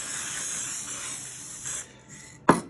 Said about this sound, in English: we use a spray called Dimmerfix